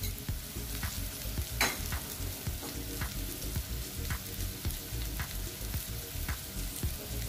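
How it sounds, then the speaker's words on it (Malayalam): Spices being stirred in a hot frying pan for restaurant-style chilli paneer, a steady close sizzle broken by repeated spoon scrapes and taps, with no one speaking. "ഇതൊന്ന് ഇളക്കാം."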